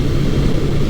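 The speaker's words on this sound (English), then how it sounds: "I am currently riding Suzuki's 1982 GS650G." Engine of a 1982 Suzuki GS650G motorcycle while riding, a loud steady low drone mixed with rushing wind noise, continuous and close, with no talk.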